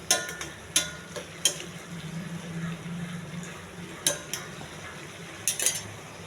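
Carrot sweet simmering in coconut milk with cashews and raisins added, a steady low bubbling under light stirring, with several sharp spoon-against-pan clinks scattered through.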